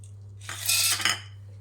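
Roasted peanuts rattle into a mixer jar in one short, close, bright pour of about a second, then stop, against a low steady hum.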